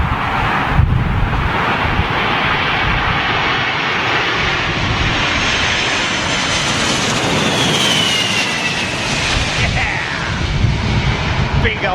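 A Boeing 747 with Rolls-Royce RB211 engines comes in to land at London Heathrow in a storm, its engines roaring loudly and steadily under heavy gusting wind noise on the microphone, with someone talking over it.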